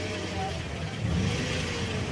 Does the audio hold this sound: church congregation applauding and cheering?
no